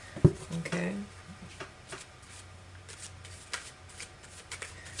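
Wizard Tarot cards being shuffled, with brisk riffling and sliding card noises near the start, then softer intermittent shuffling taps, close and fairly quiet.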